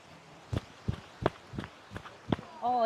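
Footsteps on firm, packed beach sand at Kai Bae Beach on Koh Chang, about six soft, evenly spaced thuds at a walking pace, close by and fairly quiet, followed by a brief bit of voice at the end.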